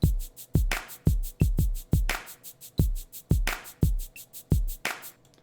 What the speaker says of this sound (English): The third drum part that we need to add is a Latin drum set.